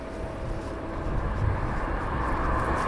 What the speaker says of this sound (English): So he's taxiing in to RYANAIR.